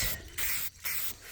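An aerosol can sprays black paint onto a frame outdoors in short hissing bursts separated by brief pauses, close and fairly loud.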